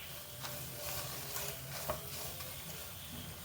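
Milk poured into hot flour (maida) in a pan while making a cream sauce, giving a steady close sizzling, stirring hiss with a few soft clicks.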